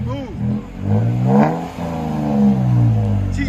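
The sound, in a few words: Toyota Tacoma 3.5L V6 revving with Black Widow exhaust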